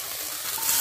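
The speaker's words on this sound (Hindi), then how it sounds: "लग रहा है ये देखो लग गया तड़का गर्मा गर्म" Hot mustard oil sizzles loudly and steadily as tempering spices hit the pan, a bright crackling hiss that grows a little stronger toward the end.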